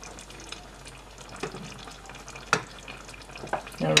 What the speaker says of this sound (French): J'attends que ce soit à ébullition. Ça commence à cuire.